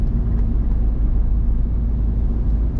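A car rolls along a wooded road between Gatlinburg and Pigeon Forge, a loud, steady low rumble of engine and tyre noise heard from inside the vehicle with no talk.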